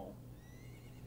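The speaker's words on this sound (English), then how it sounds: "I literally just heard his horse." A horse neighs in The Legend of Zelda: Ocarina of Time, a faint, brief whinny heard over low game background hum.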